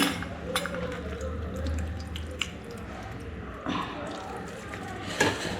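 Beaten rice (aval) is washed in water by hand, giving soft sloshing, dripping and squishing sounds at close range, with a couple of louder splashes.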